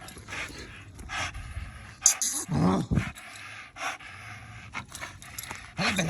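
A dog pants in quick breathy bursts, close by, with a louder scuffle and a yip-like burst around the middle; a person urges it on in Spanish.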